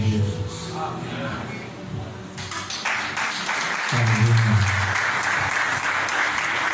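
A church congregation claps, at first under a speaking voice, then swelling into fuller, louder applause in the second half.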